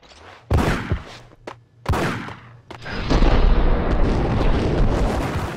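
Gunfire in Max Payne, in a hotel, aimed at the player: a few sharp loud shots with short gaps, then a dense, sustained roar of firing and impacts.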